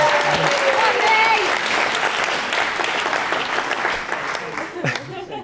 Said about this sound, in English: I actually think she deserves a fucking massive round of applause just for getting this far with Bez